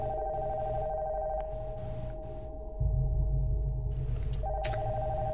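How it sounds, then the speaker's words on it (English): An old telephone rings upstairs in the horror game Nocturnal Visit, a faint, distant repeated electronic tone over a low rumbling ambient drone that grows louder partway through. "The phone from upstairs is ringing."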